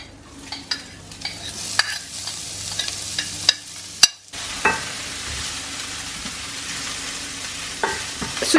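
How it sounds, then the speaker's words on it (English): Red onion hits smoking-hot oil and sizzles steadily at close range, with intermittent sharp clacks of a utensil against the pan. "So you're softening the onion, browning the onion?"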